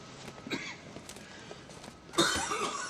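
Someone nearby coughs several times in short, scattered bursts, ending in a harsher, louder fit of coughing.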